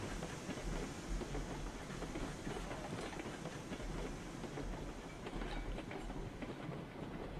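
A steam train rolls along the tracks in the railway game RailRoads Online, giving a steady, continuous rumble and hiss with faint rhythmic clatter. It runs unbroken throughout with no talking.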